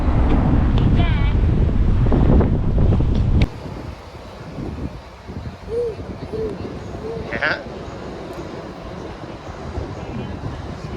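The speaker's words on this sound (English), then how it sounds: "Little windy, huh, buddy?" Wind buffets the microphone in loud gusts, easing after a few seconds into a softer, steady whoosh with faint outdoor noise.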